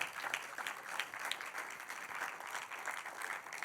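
A church congregation gives a round of applause during a Father's Day service, steady mid-distance clapping at moderate level with no talking over it.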